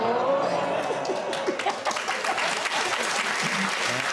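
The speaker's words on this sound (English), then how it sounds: "Hear that? Round of applause." A studio audience on a comedy panel show applauds in a steady, dense round of clapping, moderately loud and filling the room, with a few faint voices mixed in.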